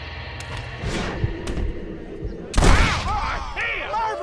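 Gunfire in the Western video game Red Dead Redemption on PS5: a sharp, loud burst of shots about midway, with softer thuds before it, mixed with game sounds and voices talking.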